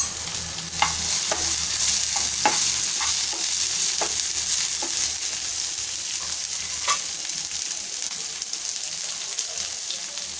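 Four or five curry leaves frying in hot oil for samosa filling, a continuous close sizzle broken by scattered sharp pops and spatters.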